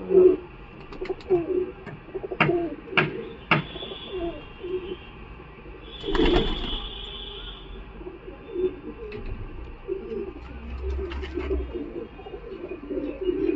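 Pigeons cooing softly at the Galiff Street pigeon market, low murmuring coos spread through a busy outdoor backdrop with occasional sharp clicks and a brief louder burst of noise midway.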